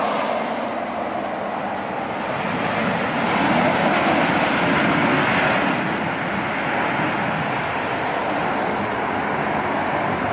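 A Southwest airliner on its landing roll: steady broadband jet roar with rushing air, fairly loud and sustained, swelling slightly midway, with no voices.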